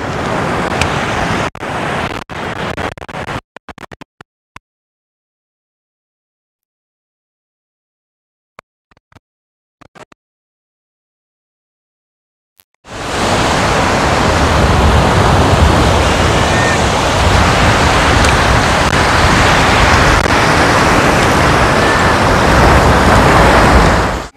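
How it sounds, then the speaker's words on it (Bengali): Heavy surf crashes against the shore at Visakhapatnam, where water meets from two sides and churns into rough waves. A few sharp knocks and near-silence come first, then a loud, steady wall of roaring sea. "দুদিক থেকে জল এসে ধাক্কা খাচ্ছে আর প্রচন্ড উত্তাল ঢেউ তৈরি হচ্ছে"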